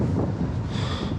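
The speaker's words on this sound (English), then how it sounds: "you won't be able to hear me because the wind is so strong" Strong gusting wind on the Lanzarote coast buffets the microphone in a loud, steady roar that blots out everything else for the whole moment.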